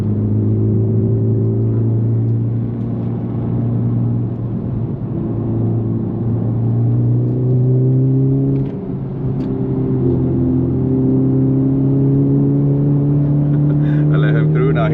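A Honda Civic Type R FL5 on a race track, engine loud and close as it revs through the gears, with rising and falling pitch and brief dips at the shifts.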